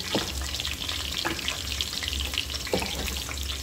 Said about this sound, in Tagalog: Nilagay na yung lamb. Hahaloin natin.